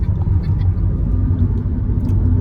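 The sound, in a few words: car driving on a highway in sixth gear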